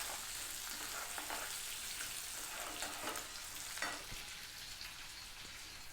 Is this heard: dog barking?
no